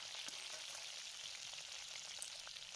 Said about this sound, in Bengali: আলুগুলো ভাজা হয়ে গেলে তারপরে আমি ফুলকপিগুলোও ভেজে নিয়েছিলাম।